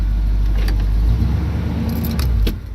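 A 1978 Chevy K10 truck engine idles steadily and smoothly up close, a low even rumble with a brief jangle of keys, fading slightly at the end.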